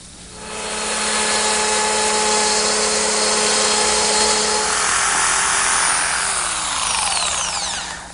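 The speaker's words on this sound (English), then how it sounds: "using my router with a straight cutting bit and this collar, which rides against the edge of the jig, I'm able to form one side of the tongue" A router fitted with a straight cutting bit and guide collar running along a jig to form a tenon tongue: a loud, sustained high whine that spins up, holds steady for several seconds while cutting, then winds down, close by.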